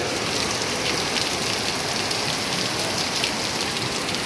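Heavy rain pours steadily on a Saturday afternoon in Santiago Nonualco, a dense, constant hiss and patter with no break, close and loud throughout.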